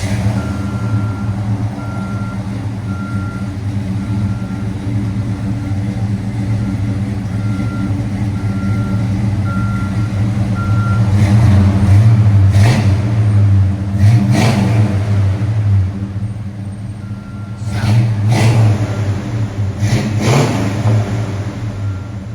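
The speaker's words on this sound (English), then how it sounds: "1971 Riviera. This is what it sounds like after," A 1971 Buick Riviera with a 455 V8, headers and a Borla Pro-XS exhaust idles with a deep, steady rumble, then swells through several short revs, while a faint intermittent beeping runs in the background.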